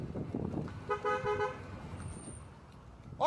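A car horn honking in a town street while a driver follows a jaguar: one sustained toot about half a second long amid traffic noise and rumble, with a short shrill tone and a brief voice-like sound near the end.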